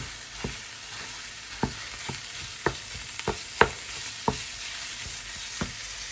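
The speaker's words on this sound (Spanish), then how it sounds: "le añado la carne picada de ternera. Y la voy a desmenuzar con la cuchara" Minced veal or beef frying in a home kitchen pan, a spoon breaking it apart: a steady crackling sizzle with about ten sharp clicks and taps of the spoon against the pan, spaced irregularly, close and moderately loud.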